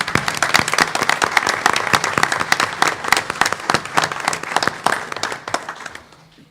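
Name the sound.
audience applause for award winners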